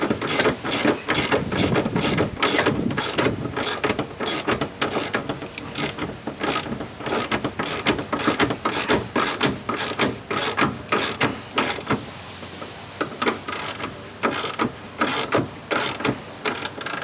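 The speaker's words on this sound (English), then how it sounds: "18mm bolt, so you want to tighten that up, clamp that onto the diff" A ratchet tightens an 18mm subframe bolt on a BMW E36 compact, producing continuous rapid clicking in quick close strokes, loud and sustained with brief pauses.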